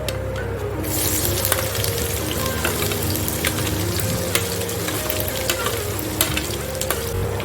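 Finely chopped onion hits hot oil with urad dal in a pan for upma, producing a loud, close, steady sizzle with occasional stirring clicks throughout.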